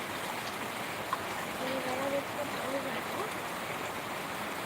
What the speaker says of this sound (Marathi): खूप मस्त पाणी चाललंय